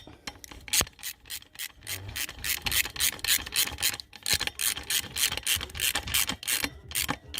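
Ratchet wrench clicking steadily while tightening 12 mm bolts on the turbo of an Opel Astra H 1.7 CDTI, a close, continuous rapid ratcheting with brief pauses between strokes.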